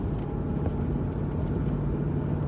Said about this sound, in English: Driving the Durango today.